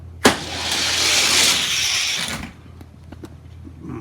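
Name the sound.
modified Hot Wheels toy cars racing down a track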